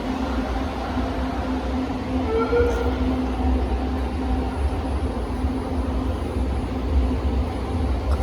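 A steady low rumble of a train idling or rolling through Recto Station in Manila, with a constant hum and faint squeals, no voices.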